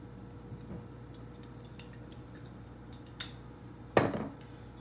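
A cooking pot for a Tunisian potato and meat stew is handled on the stove before oil goes in, a few faint metallic clinks followed by one louder clank and a brief rattle, close up in a quiet kitchen.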